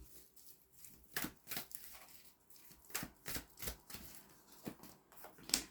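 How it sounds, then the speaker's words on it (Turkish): Tarot cards are shuffled and drawn, soft papery riffles and slaps coming in an uneven rhythm of brisk bursts, quiet and close, with no talking. "Şimdi son 5 kart daha çekelim siz sevgili oğlaklar için."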